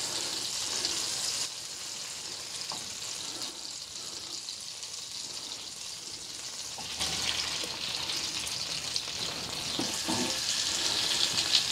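Salmon fillets searing in a hot pan give a steady, bright hiss of sizzling that swells louder partway through, with no voices over it.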